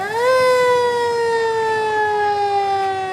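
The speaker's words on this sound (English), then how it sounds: "And a 1938 fire engine." A 1938 fire engine's siren sounds at a Fourth of July parade in Edmonds, a loud, close mechanical wail that rises quickly and then holds a steady, slowly sagging tone.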